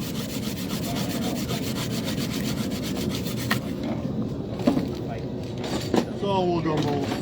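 Rhythmic rubbing and scraping of sanding on wood, steady strokes at close range, easing off partway through with brief knocks and a faint voice.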